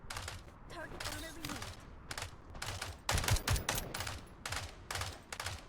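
Light machine gun in a video game fires in rapid bursts of sharp, loud shots with brief gaps between volleys, clustering densely near the middle and staying close and forceful to the end.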